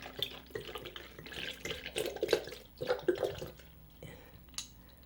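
About two cups of almond milk poured into a container in a kitchen, with a steady trickling and splashing stream that rises and falls over several seconds, close and fairly soft.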